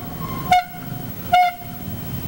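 Two short, sharp horn honks about a second apart, loud and close, over a low background hum.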